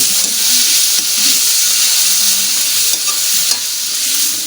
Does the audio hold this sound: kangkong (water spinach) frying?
yes